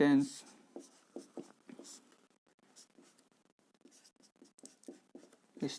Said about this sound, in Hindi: तो चलिए लिख लेते हैं